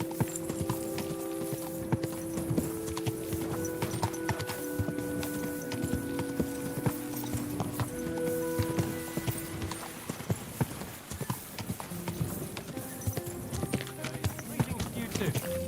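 Horse hooves clip-clop at a steady walking rhythm in the medieval video game Kingdom Come: Deliverance II, close and continuous under a bed of game music and occasional spoken lines.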